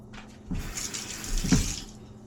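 Milk pours into a Thermomix bowl as a low-carb condensed milk is made, a short splashing, trickling stream that swells twice and then tapers off, close and clear.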